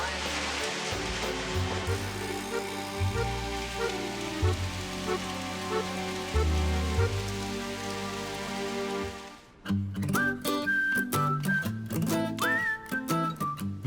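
Rain falls on an island, a steady hiss that lasts about nine seconds and then gives way to more scattered, irregular sounds with a faint whistle-like tone.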